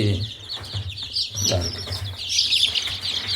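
Young chicks in their first days after hatching chirp in high, thin peeps, with several overlapping calls close by and a low background murmur.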